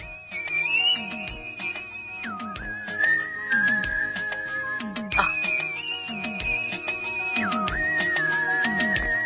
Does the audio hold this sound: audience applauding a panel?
no